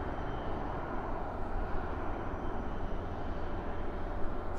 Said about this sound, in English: Look at that, Dreamliner.